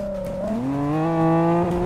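A Nissan GT-R accelerating in GTA 5, its engine note climbing steadily in pitch through a single gear in a smooth rising whine, close and loud, with a brief shift near the end.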